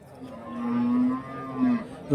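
A single long, low cow moo close by at a cattle market, rising and holding for about two seconds, with faint background noise.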